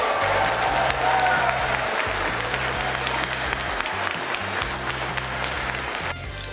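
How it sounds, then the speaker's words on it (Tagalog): Audience at a concert in Paris giving a standing ovation, with dense sustained applause and cheering from a large crowd, loud and continuous before tapering slightly at the end. "standing ovation ang ibinigay ng publiko at sinabayan ng isang nakakabinging palakpakan at hiyawan"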